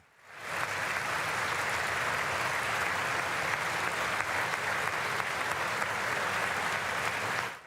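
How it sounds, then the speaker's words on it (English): Steady, sustained applause from a large audience at the 2019 State of the Union Address, starting suddenly and holding at an even level before fading at the end. "Clapping for this is insane."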